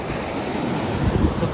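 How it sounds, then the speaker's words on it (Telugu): Sea waves break on Sandunes Beach in Pondicherry, a continuous rushing roar of surf mixed with gusty wind buffeting the microphone. "ఫుల్ అలలు వస్తున్నాయి."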